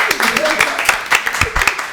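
Audience clapping at a student contest between schools, a loud, dense burst of many hands with sharp individual claps standing out, voices faintly mixed in.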